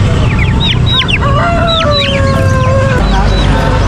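Silkie chickens cluck and chatter close by over a steady animal-market background hum, with several short rising calls overlapping, continuous throughout.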